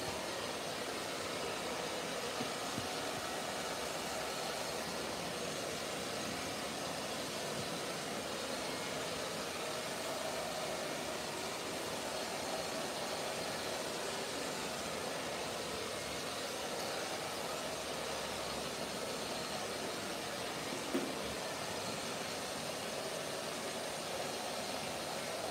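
Car engine and road noise while driving, a steady broadband hiss and rumble heard from inside the car, continuous and unchanging throughout with no talk.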